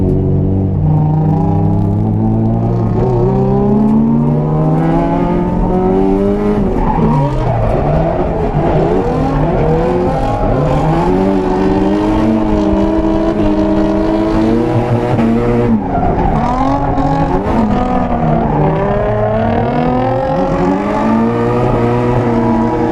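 A Nissan 350Z with Wise Fab parts drifting on a track: loud, close engine roar rising and falling through revs, with tire squeal layered over the engine.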